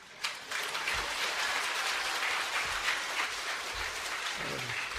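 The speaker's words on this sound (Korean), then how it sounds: "이제 우리 최태진 선교사님 나오실 때 큰 박수로 맞이하시기 바랍니다." A church congregation at a Wednesday worship service claps to welcome a missionary to the front, a broad, continuous burst of applause from the hall after a brief pause, moderately loud and steady, with a few low thumps beneath.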